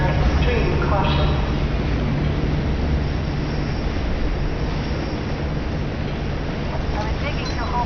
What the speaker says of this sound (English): Warning. Tram entering confined space.